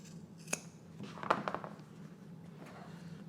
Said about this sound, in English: now we just trim that seam allowance down on both sides